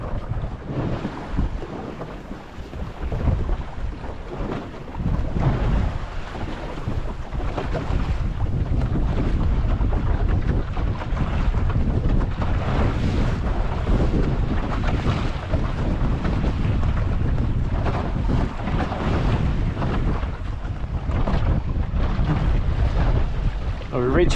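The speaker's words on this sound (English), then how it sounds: "Yeah, the wind's really got up." Strong wind buffets a small sailing dinghy beating upwind in rough water off South East Queensland, a loud continuous roar with gusting surges and splashy water noise underneath.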